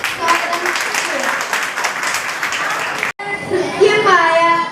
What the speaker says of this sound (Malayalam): നല്ലൊരു കയ്യടിയോടെ നമുക്ക് സ്വാഗതം ചെയ്യാം